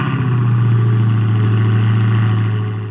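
A Dodge Hellcat engine rumbles at a steady, loud idle close by, with a deep low drone throughout and slight rises near the end, no voices present.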